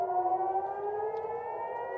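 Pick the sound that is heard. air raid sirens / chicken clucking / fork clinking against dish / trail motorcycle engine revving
air raid sirens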